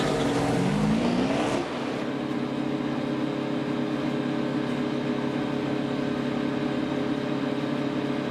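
NASCAR Sprint Cup race car at Homestead-Miami, running on Goodyear tires, pulls away from pit road with a loud rising engine roar in the first two seconds, then settles into a steady, dense mechanical drone.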